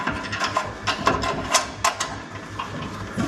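A hand ratchet tightens bolts on the front-end outriggers of a VW T4 van during rust repair, giving a quick run of rapid metallic clicks at close range with no talk.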